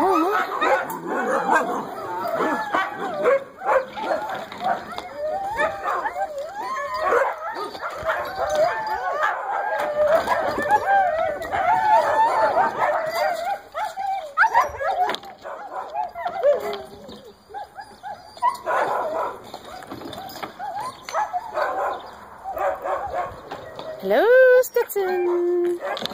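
A foster dog barks, yips and whimpers excitedly up close in a kennel for most of the stretch, with people talking warmly over and between the noises.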